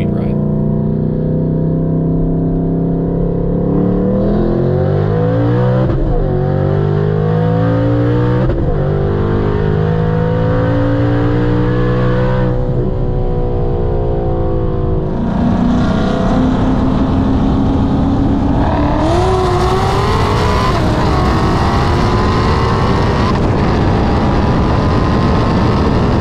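Roll race against a clean automatic Chevy SS with a blown engine, heads and cam, its roar sustained and loud throughout, climbing through gear changes with rising pitch sweeps, partly mixed with another car's engine.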